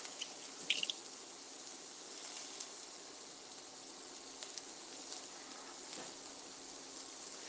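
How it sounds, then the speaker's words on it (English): A kitchen tap runs steadily over pepper seeds being rinsed, a faint, even rush of water with a few soft splashy drips early on. "let's rinse the seeds out"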